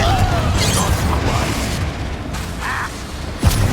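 Fiery blast of the Confringo spell in Hogwarts Legacy, a dense burst of booming, crackling noise that sustains for several seconds with a sharp pop near the end.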